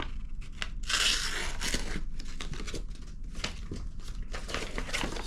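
A small, sharp knife blade tears through thick laminated paper, producing loud, close crinkling and ripping bursts that continue irregularly throughout with no talking.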